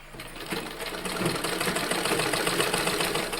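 A sewing machine runs steadily in a close, continuous whir while stitching warm fabric for a baby cap, with no talking.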